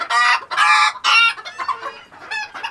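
A flock of small chickens clucks and squawks in loud, overlapping bursts close by, fading into softer, scattered clucks.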